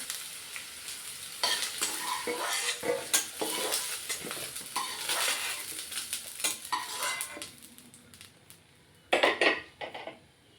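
Okra stirred and shifted around in a frying pan, a busy run of scraping spoon strokes and clinks against the metal over a soft sizzle, with a louder burst of clatter near the end.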